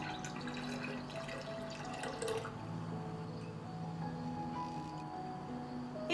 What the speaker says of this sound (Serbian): I surutku sipam u bokal.